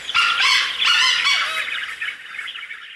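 A grey junglefowl rooster crows once, a harsh, rasping call broken into a few segments, close and loud, trailing off at the end.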